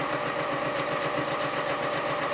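A sewing machine stitches four-patch quilt pieces together, a steady close whirring hum running without a break, with no voices.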